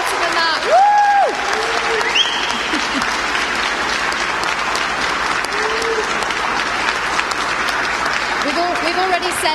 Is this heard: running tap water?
no